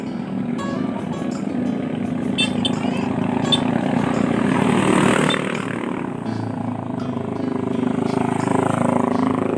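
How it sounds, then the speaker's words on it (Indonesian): A motorcycle passes on a rural road near Cilawu in Garut, West Java. Its engine drone swells to a peak midway, then eases off over a low outdoor background, with voices nearby. "Awas motor ya."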